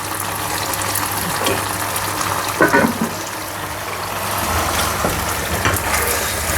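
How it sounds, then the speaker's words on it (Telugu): Spleen pepper fry cooking in a little oil in a pan, a steady low sizzle and hiss with a faint stir or scrape now and then, close and continuous. "ఇప్పుడు దీన్ని మెల్లిగా ఫ్రై అవ్వనివ్వాలి అంతే"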